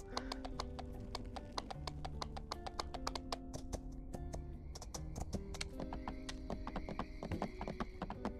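Horse hooves clip-clop in the farming game My Time at Sandrock, a rapid, steady run of sharp clopping beats over soft background music, close and continuous.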